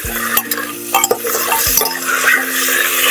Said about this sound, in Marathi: आणि मटण 2-5 मिनिटं चांगलं परतून घेऊया.